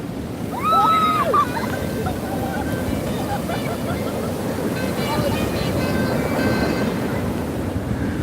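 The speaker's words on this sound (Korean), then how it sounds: "파도가 엄청" Ocean waves wash continuously onto Naksan beach at night, a steady broadband roar with a louder swell near the start, while someone talks over the surf.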